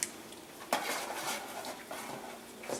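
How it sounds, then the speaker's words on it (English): A spoon stirring Cajun gumbo in a metal pot, scraping and clinking with a sharp knock near the start and irregular rattles after, close and moderately loud. "Stir it real good."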